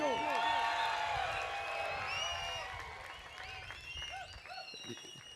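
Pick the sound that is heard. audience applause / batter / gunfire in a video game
audience applause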